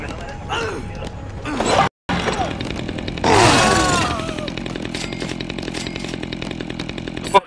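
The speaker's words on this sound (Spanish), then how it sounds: "La motosierra, quiero la motosierra." A chainsaw revs and whines in the zombie video game Dead Rising 2: Off the Record, a loud buzzing burst with rising pitch sweeps amid game clatter and a busy, noisy mix.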